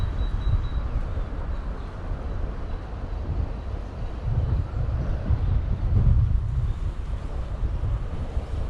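Strong wind gusting on a riverbank during a grannom hatch, a constant low roaring rumble across the microphone that swells and eases, loud and continuous with no voices.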